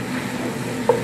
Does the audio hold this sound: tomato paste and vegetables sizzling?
yes